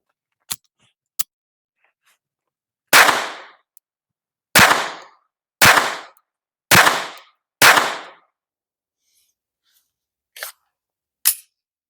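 A Glock 43X or 48 clone pistol fires five loud close shots on a range, spaced about a second apart, with a few sharper clicks and snaps before and after them.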